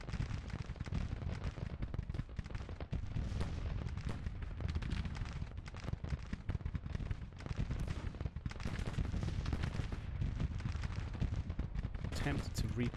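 Cannon and musket gunfire rattle continuously through a Grand Tactician battle, dense overlapping shots and booming artillery blasts forming a loud, unbroken barrage from start to finish.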